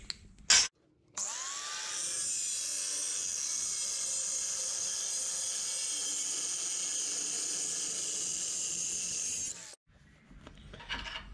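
A power tool cuts through a flat metal bar, giving a loud, steady high-pitched whine that holds for about eight seconds and then stops, with brief knocks and handling noises before and after.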